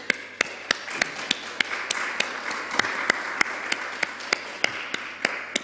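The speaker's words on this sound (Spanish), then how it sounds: "Les damos nuevamente un fuerte aplauso." Applause at a Chilean constitutional convention environment committee session, with a few sharp, evenly spaced loud claps ringing out near and clear over softer background clapping from a small group.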